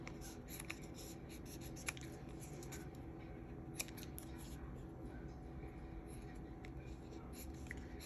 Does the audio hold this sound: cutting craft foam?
yes